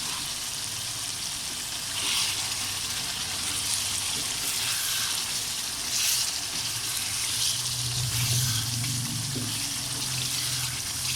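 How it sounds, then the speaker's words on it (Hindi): Spices frying in oil for a chicken shinwari karahi, a continuous close sizzle with a broad hiss and occasional louder swells, no talk. "हर चीज़ को अलग-अलग डाल के भुनाई कर लें ताकि हर चीज़ का अलग-अलग टेस्ट आए।"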